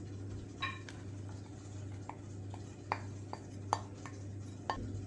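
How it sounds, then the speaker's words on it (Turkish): A mixing bowl being picked up and handled in a kitchen while making cookies, a few light clinks and knocks spaced irregularly over a quiet steady background hum. "Karıştırma kabını alıyorum."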